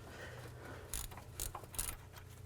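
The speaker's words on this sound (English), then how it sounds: "then I can take the nut off of the ball joint" Ratchet wrench loosening the ball joint nut on the upper control arm of a 2000-2006 Chevy Tahoe, a few short metallic clicking bursts close by over low background hum.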